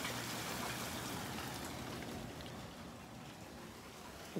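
Hail falling outdoors near a house as a storm slows, a dense, continuous hiss of pellets striking surfaces that stays steady and even throughout, with no voices.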